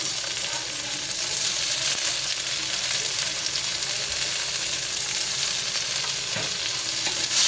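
Tomatoes sizzle steadily in a frying pan as they are stirred, a continuous close hiss with faint scraping and no voices.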